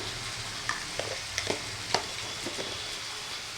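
Mutton sautéing in a pan with chili powder, giving a steady low sizzle broken by a handful of sharp scraping stirs that click and clatter at irregular moments.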